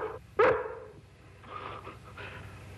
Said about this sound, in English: A real smart dog